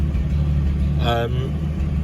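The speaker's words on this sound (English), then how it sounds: "Starts up, idles." Steady low rumble of a 1949 Special Deluxe 6-volt engine idling nearby, with a brief burst of a voice partway through.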